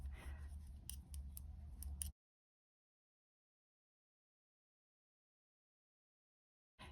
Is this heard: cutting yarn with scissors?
yes